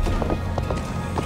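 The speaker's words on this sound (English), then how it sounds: "Come on, horsey." A horse gallops in Assassin's Creed Valhalla, its hooves pounding in a quick, steady rhythm of clip-clops over a continuous loud bed of game ambience, heard close and without speech.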